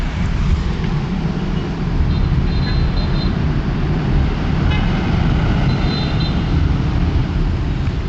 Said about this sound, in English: But not only waves, see that traffic?